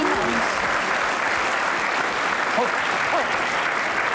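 Dense, steady applause from a studio audience at a Dutch television comedy show, sustained and loud throughout with a faint voice briefly audible underneath.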